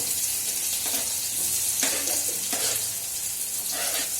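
Onions frying in a hot pan give a steady, close sizzle that fills the whole stretch, with a few brief stirring scrapes rising above it and no talk.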